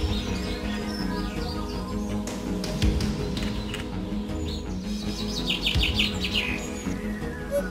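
A hoopoe sings among other birds, with repeated calls and bright chirps over a steady outdoor background.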